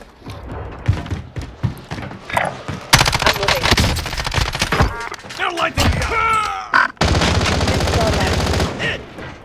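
Rapid automatic gunfire bursts from the video game Warzone, loud and dense, with shots and thuds in separate volleys separated by brief pauses, while players talk over the fighting.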